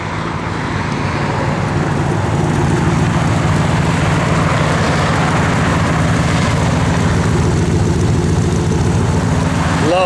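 A 1965 Chevrolet Corvette idles with a steady, loud, rumbling drone that holds at constant level throughout, close to the car with no talking.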